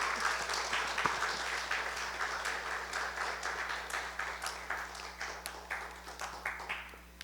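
A church congregation claps loudly to welcome a pastor, a broad steady applause with individual claps audible, gradually thinning toward the end under a low electrical hum, with no speech over it.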